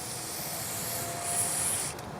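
Get Some 1000 spray lubricant hisses steadily from an aerosol can onto a vehicle battery terminal, one close continuous burst without talk.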